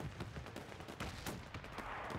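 Artillery and field-gun fire in the World War II strategy game Men of War 2 during a major defensive battle: dense, repeated blasts and crackling shots layered over a continuous loud rumble of combat.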